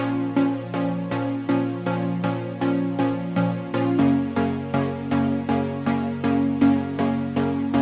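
Bright, buzzy saw-wave synthesizer chords with 16-voice unison and 7% detune, struck in a steady repeating rhythm, each stab decaying quickly, with the harmony shifting midway; no voices.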